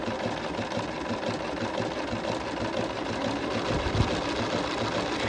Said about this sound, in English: And you can sew as fast or as slow as you need to keep control.